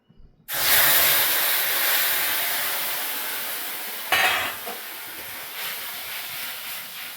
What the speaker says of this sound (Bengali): তেঁতুলটা দিয়ে দিলাম, একটু ফুটবে তেঁতুলটা।